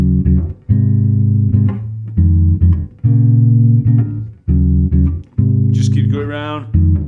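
Bass guitar playing the chord progression of a song, heard alone as a run of sustained low chords in short repeated phrases with brief gaps, loud and close, a scrape of string noise near the end.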